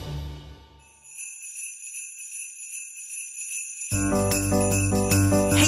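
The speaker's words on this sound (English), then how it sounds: "Are those jingle bells?" A burst of bright jingling starts suddenly, with shimmering bells ringing steadily over music after a quiet, tinkling lead-in.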